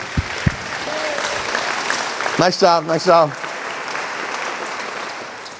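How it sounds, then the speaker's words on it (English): An audience at a community meeting applauds for the directors with a steady patter of clapping. A voice speaks briefly in the middle, and the applause tapers off toward the end. "So can I have a big round of applause for our directors?"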